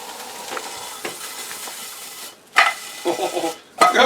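Quiet frying sizzle of pork roll in a pan, broken up by a few clinks and scrapes of a utensil stirring and shifting food.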